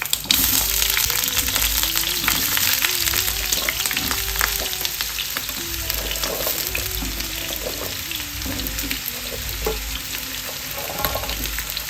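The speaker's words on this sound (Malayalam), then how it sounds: "നമുക്ക് ഈ എണ്ണയിലോട്ട് ഈ കിഴങ്ങ് ഇട്ട് കൊടുക്കാം കിഴങ്ങ് മുരിങ്ങയ്ക്കയും കൂടെ ഇട്ട് കൊടുക്കാം" Potato and drumstick pieces frying in hot vegetable oil, a continuous loud sizzle and crackle with occasional stirring scrapes, close up and without talk.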